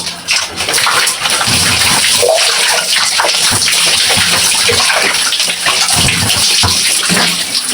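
Running water gushes steadily while hair is rinsed before a hair relaxing treatment, a loud continuous splashing flow with small shifts in spray and no pauses.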